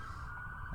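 Police siren of a motorcade escorting buses through Washington DC, a faint, steady wailing tone heard briefly at a distance over low traffic rumble.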